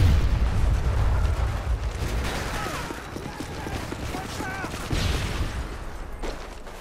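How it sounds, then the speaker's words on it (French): An allied EMP bomb detonates in the Modern Warfare 3 multiplayer game, a dense run of booming blasts and crackling bursts layered under steady background chatter and game voices. "La bombe IEM alliée a explosé."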